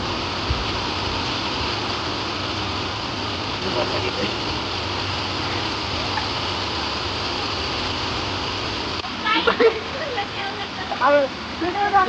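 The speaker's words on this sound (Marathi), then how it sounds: "पाऊस दाखवू का?" Rain falls with a steady, dense hiss throughout, and people talk over it toward the end.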